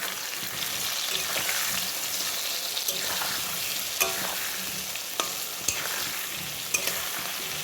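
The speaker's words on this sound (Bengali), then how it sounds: "এবার নুন হলুদ দিয়ে আলুগুলোকে খানিকক্ষণ ভেজে নেব।" Potatoes fry in hot oil with salt and turmeric for an egg potato curry, a dense continuous sizzle with occasional light clicks of stirring, steady and close.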